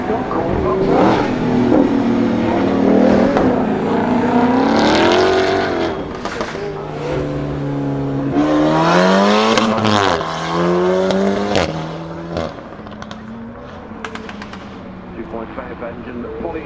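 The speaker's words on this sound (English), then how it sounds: "Engine pulling very nicely." A race car at the Goodwood Festival of Speed accelerates hard through the gears, the engine note rising and dropping in several loud sweeping pulls as it passes nearby, then fading away.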